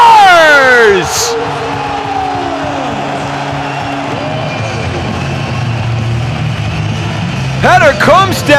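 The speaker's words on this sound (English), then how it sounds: "The crowd in the O2 Arena goes crazy." Ice hockey crowd at the O2 Arena in Prague roars and cheers after a goal, a loud sustained wall of voices with horns and whoops, while a commentator talks over it.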